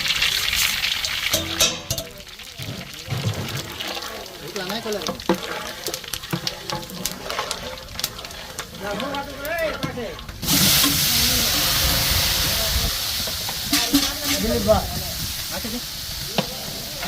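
Tempering spices hit hot oil for a village-cooked brinjal dish. A loud, steady hiss and sizzle bursts in midway, after a stretch of people talking and moving things around, and voices continue over the frying.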